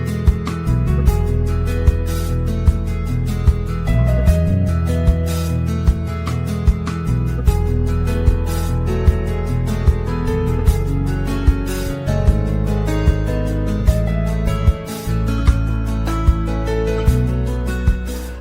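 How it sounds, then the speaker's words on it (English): Hindu Arti ceremony on the banks of the Ganges in Varanasi, heard as a dense, continuous wash of ringing bells, drums and music at steady loudness with regular sharp accents throughout. "This sound you're hearing is part of the ceremony that's about to begin, called Arti, the Hindu ceremony of giving thanks for the day."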